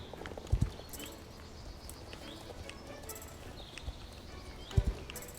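Horse hooves galloping in the video game Star Stable, quick rhythmic clip-clops with two sharper bursts of hoofbeats, set against faint background game sounds.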